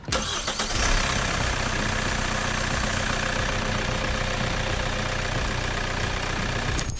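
A car engine catches and settles into a steady, low rumbling idle after an engine oil change, close and continuous, with no voices.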